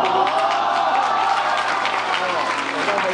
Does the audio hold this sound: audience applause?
yes